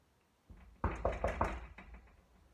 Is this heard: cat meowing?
no